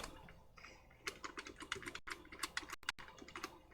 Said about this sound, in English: The banging you might be hearing is my keyboard.